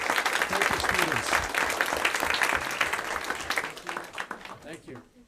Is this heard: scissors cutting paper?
no